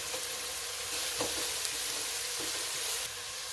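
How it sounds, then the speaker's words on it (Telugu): Onions and dried red chillies fry in hot oil in a Rayalaseema kitchen, giving a steady, close sizzle with a few soft stirring clatters and no talk. "ఈ ఉల్లిపాయలు సాఫ్ట్గా అయ్యే వరకు వేయించుకుందాం"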